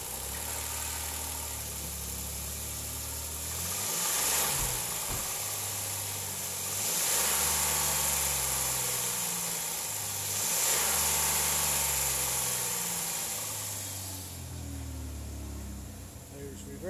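A 2010 Chrysler Town & Country minivan engine idles steadily at close range, a low continuous hum with slight swells in level and a faint high whine running throughout.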